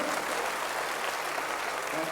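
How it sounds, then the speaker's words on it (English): Audience at a school annual function giving a round of applause, continuous even clapping from a large crowd throughout. "Can we have a larger round of applause for everyone there?"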